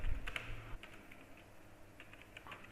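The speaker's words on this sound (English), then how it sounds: "now I'm going to type it here." A question being typed on a computer keyboard, soft scattered key taps at close range, sparse and quiet with a low background hum.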